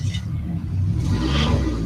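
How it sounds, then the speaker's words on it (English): A nearby vehicle engine revs up with a steady low rumble that swells in loudness partway through, heard outdoors beside a camper on a hot day. "You can't tell by the vehicle revving up behind me"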